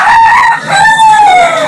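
Native chickens at a market, with a rooster crowing loudly and close in a long, drawn-out call that rises and then trails off, standing alone without any talk over it.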